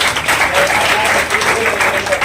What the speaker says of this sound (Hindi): साथ ही हमारे विनोद जी राठौर साहब हमारे बीच में एक बार जोरदार तालियों से स्वागत